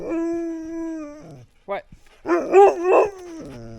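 A dog howls in a long, steady wavering tone, goes quiet, then lets out a few sharp barks and yelps near the microphone, and a person speaks briefly.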